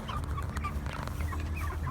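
Cornish Cross meat chickens about eight weeks old cluck and murmur softly in a steady, close flock chatter, with no talking.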